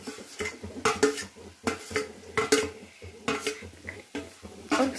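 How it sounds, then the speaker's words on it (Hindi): Green chillies stirred into potatoes cooking in a pan for sabudana khichdi, with a steady series of spoon scrapes and clinks against the metal under a light sizzle. "अब हमारा बटाटा थोड़ा थोड़ा पक रहा है। डालेंगे हरी मिर्च।"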